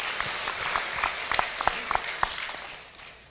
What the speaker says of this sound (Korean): 박수예요, 박수.